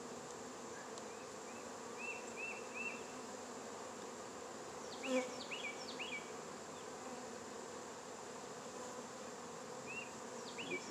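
Honey bees buzzing around an open hive on a damp February day in Fairplay, Maryland, with a steady droning hum and individual bees whining past now and then, close and continuous.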